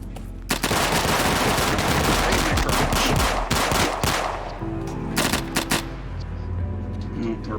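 Rifle fire in a VR shooting game: rapid, loud automatic bursts crackle back to back, then break into shorter volleys with brief gaps.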